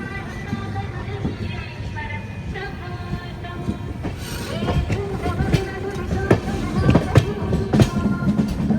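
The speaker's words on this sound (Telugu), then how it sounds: "రేణిగుంట దాటుకుని మన ట్రైన్ అయితే గూడూరుకి ఎంటర్ అవుతుంది" An Amrit Bharat Express on its inaugural run from Thiruvananthapuram North to Charlapalli rolls through the Gudur outer in Andhra Pradesh, a loud continuous rumble with rhythmic wheel clacks that grows heavier toward the end.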